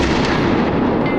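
A single loud rifle shot rings out at close range during a youth deer hunt on a ranch, its blast and rumbling echo filling the short moment with no talk over it.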